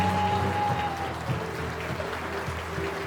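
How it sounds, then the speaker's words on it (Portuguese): A church congregation applauding during a Portuguese-language service, a steady round of clapping filling the room with scattered background voices and a faint lingering tone underneath. "Você pode aplaudir Jesus porque Ele é bom."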